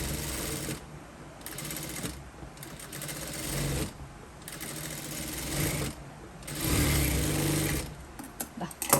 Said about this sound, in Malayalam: നേരെ നമുക്ക് തയ്യൽ മെഷീനിലേക്ക് ഇത് വെച്ച് കൊടുക്കാം എന്നിട്ട് ഇതിൻ്റെ ഈ ഭാഗത്ത് ഇതുപോലെ ഇങ്ങനെ ഒന്ന് സ്റ്റിച്ച് ചെയ്ത് വെക്കാം